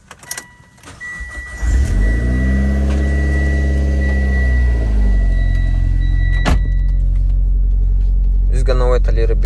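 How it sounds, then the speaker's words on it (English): A Mitsubishi Lancer Evolution X MR engine starts after some clicks and settles into a loud, steady warm-up idle with a slight rise and fall in pitch, close to the microphone, with a brief voice near the end. "Just gonna wait a little bit for the car to warm up."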